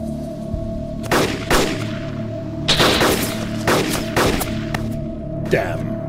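Gunfire from other players in the video game DayZ cracks out in a burst of sharp shots at irregular intervals over a steady low background hum.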